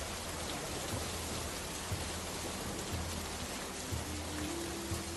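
Heavy rain pours on a stormy night, a dense steady wash of drops close around, with faint low rumbles underneath and no voices.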